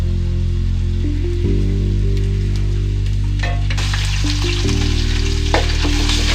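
Onion, ginger and garlic sauté in a pan with a bright frying crackle and sizzle, heard over a loud, steady low hum that persists throughout.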